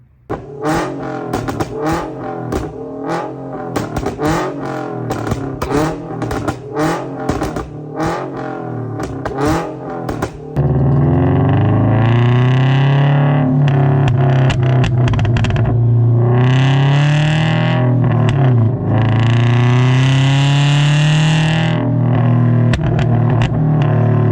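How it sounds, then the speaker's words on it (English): Subaru BRZ / Scion FR-S fitted with a Tomei overpipe and a pops-and-bangs tune, loud engine revving with rapid crackling pops and bangs in bursts, then a sustained high rev with rising and falling pitch. "I'm going to show you guys some clips of the pops and bangs tune I got on there right now"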